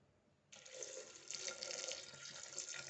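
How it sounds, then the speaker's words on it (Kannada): Tap water gushes steadily into a pot of washed jackfruit seeds, starting abruptly and running as a close, continuous splashing stream. "ಇದಕ್ಕೀಗ ನೀರು ಸೇರಿಸ್ಕೊಳ್ಳೋಣ."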